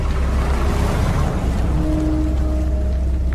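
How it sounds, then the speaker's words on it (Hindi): Heavy rain pours in a dense, steady hiss with a low rumble underneath, and a faint tone hums partway through; no voices. "आसमान में काली घटा छाई हुई थी, जोरों से बारिश होने लगी थी।"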